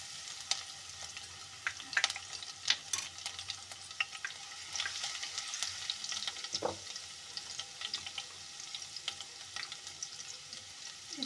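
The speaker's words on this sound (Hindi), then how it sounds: "इसमें डालते हैं बारीक कटा हुआ लहसुन।" Finely chopped garlic sizzles quietly in a pan for Punjabi-style mustard greens, a soft steady frying hiss with occasional stirring scrapes and small pops, no voices.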